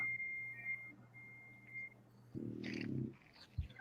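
A puppy lets out a few short whimpering and snuffling noises, close and fairly quiet, with near silence between bursts and a faint beep-like tone early on.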